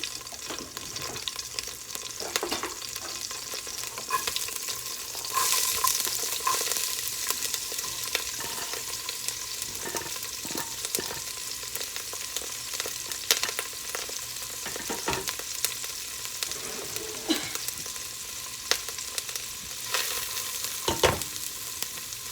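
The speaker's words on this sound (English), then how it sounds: "we're just going to saute these until they get a little bit soft" Vegetables for Italian wedding soup sauté in a pan with a steady, broad sizzle throughout, broken by a few short clicks and scrapes of stirring.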